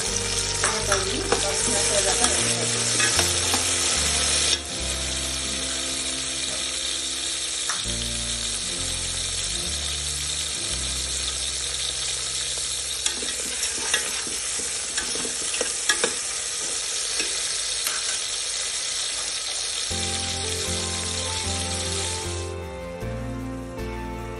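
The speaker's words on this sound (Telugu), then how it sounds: "ఈ టమాటోస్ అయితే బాగా వేగాలి, అప్పుడు దాకా అయితే బాగా వేయిస్తాను." Tomatoes frying with onions in a pan for a dried-fish tamarind curry give a steady loud sizzle with repeated scraping stir strokes, the hiss thinning toward the end.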